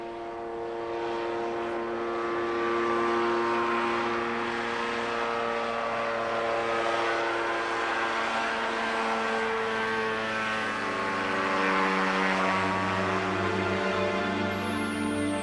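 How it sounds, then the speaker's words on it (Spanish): Over the Galápagos, a small open two-seat ultralight aircraft with a light engine drones steadily and loudly throughout, its buzzing engine tone shifting slightly in pitch as it flies past close by. "Denominado Ultralight, esta es una máquina voladora pequeña y abierta de 2 puestos, impulsada por un motor liviano"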